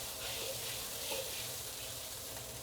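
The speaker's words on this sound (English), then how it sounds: "You see it's coming up to a simmer now" Sesame beef sauce simmering in a wok, a soft steady bubbling hiss that holds evenly throughout, faint and close with no voices.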